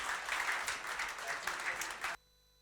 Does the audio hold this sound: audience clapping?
yes